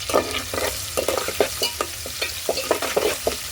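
A tempering for toor dal with amaranth leaves sizzles in a pan over a wood-fired hearth, with steady frying hiss broken by repeated scraping stirs of a spoon, close and fairly quiet.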